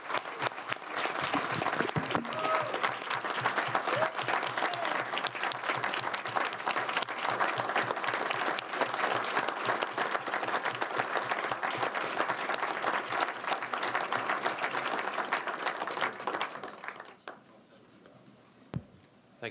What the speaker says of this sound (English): So I think we all deserve a great round of applause for Jason and the other men of this department.